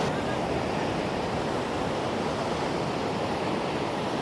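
Sea waves surge fast beneath a natural rock arch on a Visakhapatnam beach, a dense, unbroken roar of surf and wind noise filling the whole stretch at steady loudness.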